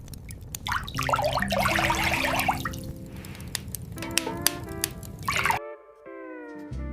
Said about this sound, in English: She dips out water and pours it into a black iron kettle.